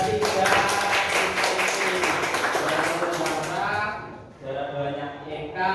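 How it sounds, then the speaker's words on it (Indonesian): A group claps for the top three winners ranked first, second and third. The applause is dense and steady, then fades as a voice carries on speaking. "Beri tepuk tangan kepada 3."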